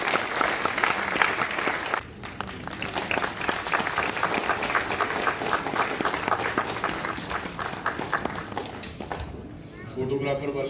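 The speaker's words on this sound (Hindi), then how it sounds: "एक बार हमारे बीच उपस्थित सभी कवि एवं कवियत्री महोदया का जोरदार तालियों से स्वागत होगा।" Audience at a Hindi kavi sammelan poetry gathering bursts into loud, continuous applause to welcome the poets, the clapping thick and close, with a brief lull midway and a voice speaking over the final moments.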